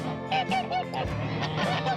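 Farm geese honk loudly and close by in quick, repeated nasal calls, several birds overlapping over a constant background hum.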